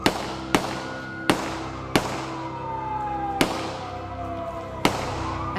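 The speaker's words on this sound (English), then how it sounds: "They fired 9 times." Police gunfire aimed at a lone man on a streetcar in Canada: about six sharp, loud bangs at uneven intervals, each ringing off briefly over a faint tonal hum.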